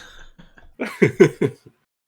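A short burst of three or four harsh coughs, close and fairly loud, preceded by a few faint breathy sounds.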